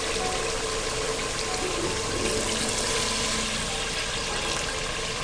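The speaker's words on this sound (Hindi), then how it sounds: "मैंने 2 गिलास के बराबर पानी डाला है" Two glasses of water pouring into a pressure cooker of fried white lentils (dal mash), a steady, loud splashing rush that runs continuously without talk.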